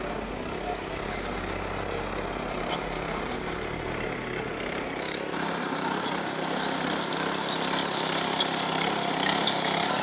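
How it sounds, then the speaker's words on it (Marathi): A 7 HP petrol engine on an Agrimill premium model machine runs at a steady drone, a continuous loud mechanical whir with low rumble that shifts slightly brighter partway through, no speech over it. "आपलं प्रीमियम सेवन एच पीचं इंजिन पेट्रोल इंजिन आहे"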